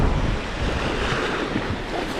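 Strong wind buffets the microphone beside the waves on the Dahab seafront on the Red Sea, a steady, close roar of gusts and surf with no voices.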